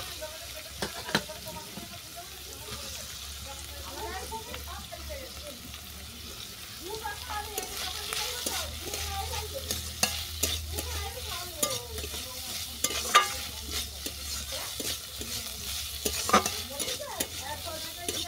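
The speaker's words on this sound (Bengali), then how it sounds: "আলুটাকেও থোড়ের সঙ্গে কিছুক্ষণ ভেজে নেব।" Banana stem (thor) and chopped potato fry together in a pan, a steady low sizzle under repeated stirring scrapes and clinks, close and moderately loud with no talk.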